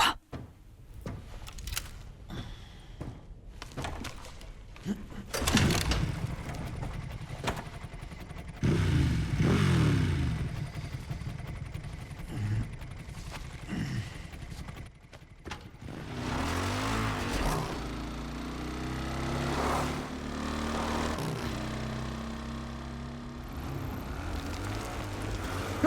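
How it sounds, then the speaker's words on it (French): Motorcycle engine in the video game Resident Evil Requiem, revving and accelerating with gear changes and clattering impacts, loud and close throughout with no talk. "J'ai conduit une moto."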